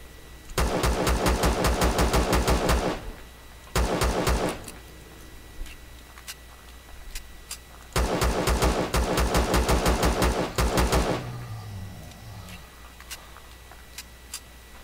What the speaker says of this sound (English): I've just been doing some late-night hunting with the help of a mounted turret.